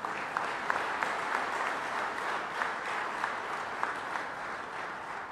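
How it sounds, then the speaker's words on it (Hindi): A large crowd at a Madhya Pradesh government gathering applauds to welcome the sports minister, a steady, moderately distant roar of clapping with a few sharper claps standing out. "आज अपनी खेल मंत्री का तालियां बजा के स्वागत कीजिए।"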